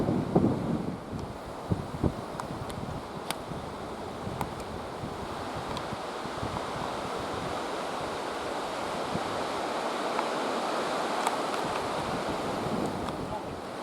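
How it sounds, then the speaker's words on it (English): Gusty wind across an open golf course buffets the microphone in loud, roaring waves, with a few sharp knocks and rustles through a long, steady blast. "What a gust that was."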